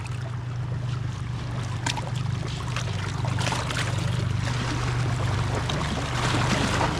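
A small boat's motor drones steadily nearby on the water, a low continuous hum with faint splashing and wash throughout.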